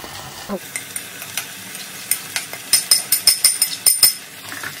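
Chopped methi leaves frying with potatoes in a pan, a run of close, rhythmic scraping stirs with a light sizzle, strokes getting louder and quicker toward the end.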